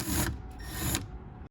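Trunk arm cover on a Mercedes R230 SL55 being pried off, giving a close, loud scrape and rattle of plastic with a few clicks, lasting about a second and a half before cutting off.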